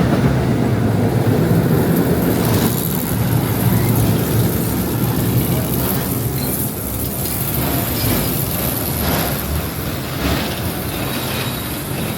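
The Turtle ride at Kennywood amusement park picks up speed with a loud, steady rumble of wheels on track, rattling and faint squeals over a continuous mechanical roar.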